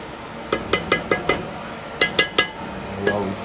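A spoon clinks sharply against a cooking pot while egusi (melon seed) soup is stirred, a quick series of bright metallic taps in two bursts, close and alone.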